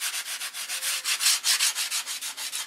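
Rhythmic back-and-forth scratching of sandpaper on wood, close and steady, each stroke a soft hiss in an even repeating pattern.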